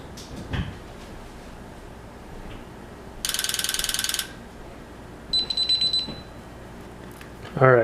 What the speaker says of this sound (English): you heard that 8 to 10 clicks there. That means the system is locked out right now.